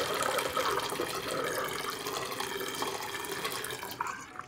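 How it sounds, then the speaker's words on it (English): Water drains down a bathroom sink, a continuous rushing, gurgling flow at close range, steady and fairly quiet, trailing off slightly at the end without any talking. "when water goes down the drain, it forms a bit of a spiral?"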